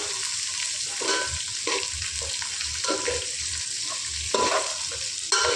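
Okra frying and sizzling in a pan, a steady broadband hiss with periodic scraping stir strokes about once a second, close and fairly loud, with no talking.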